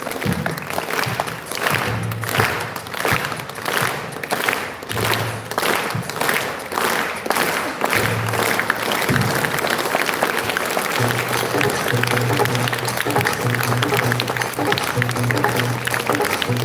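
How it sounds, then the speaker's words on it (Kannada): An audience at a live concert claps continuously and loudly for a long stretch, a dense, even roar of hands with a low rhythmic thump pulsing underneath. "ನಿಮ್ದೇ ಚಪ್ಪಾಳೆ ಬರ್ಬೇಕು ಇವಾಗ ಫುಲ್."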